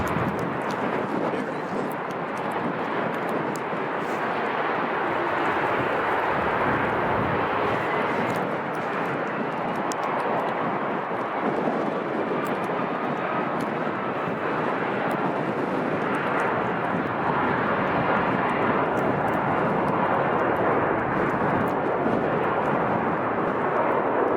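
Lufthansa Boeing 747 jet at Chicago O'Hare, a loud, steady broadband engine roar that holds for the whole stretch with little change, with people talking faintly now and then.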